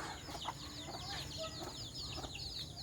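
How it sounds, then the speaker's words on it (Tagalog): Chickens cluck and chirp steadily at a moderate distance in a backyard, several birds calling over a constant background hum. "Dito naman yung mga"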